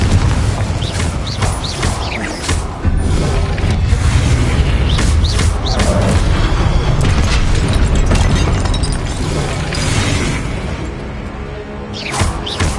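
Repeated Confringo spell blasts in a Harry Potter video game, a series of heavy booming explosions and crashes fired in quick succession against statues, loud and continuous with only brief lulls.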